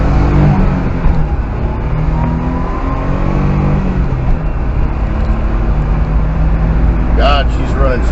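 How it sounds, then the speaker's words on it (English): A Daihatsu Atrai camper van's engine drones steadily from inside the cabin while driving, with shifting harmonic whine as revs change and a brief squeaky sound near the end. "Just listen to that motor."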